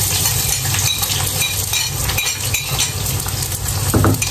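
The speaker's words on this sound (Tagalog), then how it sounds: "So, ilalagay na natin yung sibuyas." Onion sizzles as it fries in vegetable oil for a Filipino chicken afritada: a steady, close crackle with faint stirring and a light clink of a utensil near the end.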